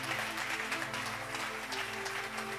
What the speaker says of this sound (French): Est-ce que quelqu'un peut acclamer très fort le roi de rois?